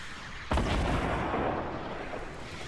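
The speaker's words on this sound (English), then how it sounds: "that sounds like a normal RPG" An RPG rocket explosion in Fortnite, a single sudden loud blast followed by a long rumbling, crackling tail that slowly fades, with no talking.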